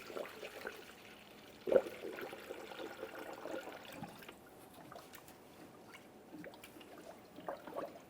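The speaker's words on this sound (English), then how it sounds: "Remove the stopper and add coolant." Coolant poured through a filling funnel into the radiator of a 2015-2019 Subaru Outback gives a faint, steady liquid trickle, with a brief knock near the start.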